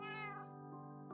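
Several Minecraft cats mew in a steady, drawn-out, tonal game-audio chorus, loud and continuous with no pauses, ending with a brief higher click.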